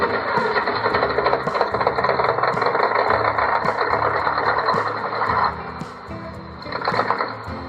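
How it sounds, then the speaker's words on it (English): An electronic sound module in a small-scale RC truck playing a Kenworth-style truck engine, a steady synthetic rumble with a dense buzzy tone, close and continuous, dipping briefly before picking up again. "This is like a Kenworth type truck sound,"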